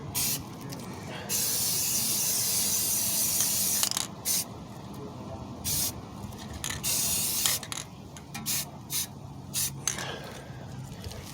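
Spray paint hisses from an aerosol can onto car brake calipers in repeated bursts, long at first, then shorter and choppier, close and fairly loud, with faint mechanical clicks between sprays.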